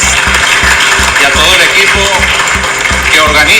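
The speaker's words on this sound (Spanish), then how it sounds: "Quiero pedir un aplauso para el ministro de Cultura de España" Applause from a conference audience honoring Spain's Minister of Culture at the Mondiacult culture conference: a dense, sustained clatter of clapping that fills the whole stretch, with a steady rhythmic low thumping beneath it.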